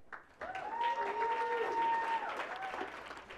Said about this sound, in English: Will you please help me welcome to the stage with a robust round of applause